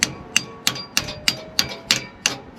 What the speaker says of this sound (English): I'm hammering on it and it's not going back down